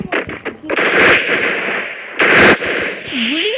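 Gunfire in a shooting video game custom match: dense automatic bursts roar in two long stretches with a short gap, loud and close, followed by a rising electronic whine.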